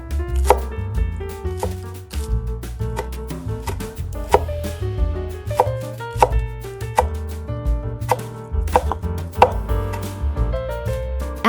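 A knife chops green onions on a cutting board in quick, irregular strokes, with close, crisp knocks of the blade against the board. Music plays steadily underneath.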